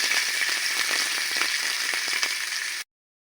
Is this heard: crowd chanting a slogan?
no